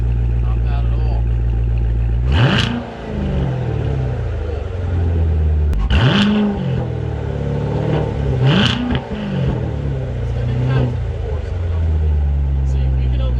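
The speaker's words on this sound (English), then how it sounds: "we can only rev to 4 in the Corvette" A C7 Corvette Grand Sport engine revs three times, each blip climbing and falling back over a loud steady idle rumble, held to about 4,000 rpm.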